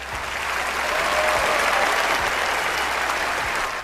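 A room of listeners breaks into applause, sustained even clapping that swells and holds for several seconds before trailing off, with no talk over it.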